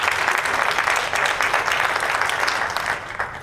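An audience at the Georgia Disability History Symposium applauds, a steady roomful of clapping that holds evenly and then begins to thin toward the end.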